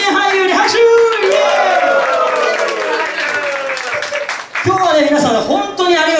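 A crowd claps and cheers loudly, with voices talking and whooping over the applause throughout.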